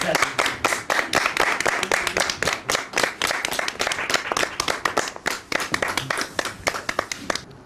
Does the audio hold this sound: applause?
yes